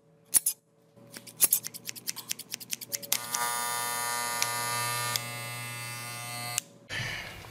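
Scissors snip several times in quick rhythmic cuts, then an electric hair clipper buzzes steadily up close for a few seconds before switching off.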